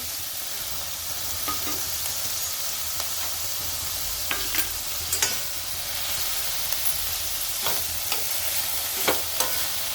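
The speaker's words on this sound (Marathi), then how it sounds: "याला पण कांद्याबरोबर आपण परतून घेणार आहे।" Chopped tomato sautéing with onions in a pan for dum aloo, a steady close sizzle with occasional sharp stirring clicks and scrapes throughout, no voices.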